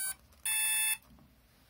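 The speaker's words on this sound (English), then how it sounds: "listen out for the three beeps that it makes as a startup" A brushless motor ESC on an ATMega8 chip, flashed with SimonK firmware, gives its startup tones: a short chirp, then one loud, steady electronic beep about half a second long, followed by quiet.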